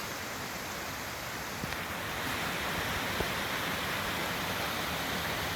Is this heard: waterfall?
yes